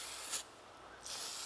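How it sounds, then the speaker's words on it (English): Brake parts cleaner sprayed from an aerosol can onto a Honda ATV disc brake to strip grease, two bursts of loud steady hiss separated by a brief pause, no talking. "Just spray it down with brake cleaner,"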